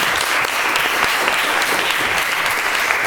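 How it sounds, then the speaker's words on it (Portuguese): An audience at a talk session about a period dance ball breaks into steady applause, dense clapping filling the room without pause. "Palmas para esse bloco."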